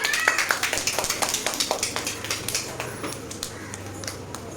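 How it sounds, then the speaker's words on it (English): Kindergarten children clap for a classmate in a classroom, a quick run of light, rhythmic claps that fades out after a few seconds. "Clap for Navira."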